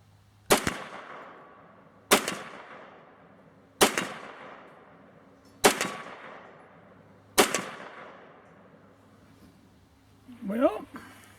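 Five loud, sharp rifle shots from a .351 firing 180 grain cast bullets, evenly spaced about two seconds apart, each with a short decaying echo, followed by a brief voice at the end.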